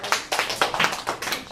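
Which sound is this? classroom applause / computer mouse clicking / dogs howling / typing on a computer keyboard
classroom applause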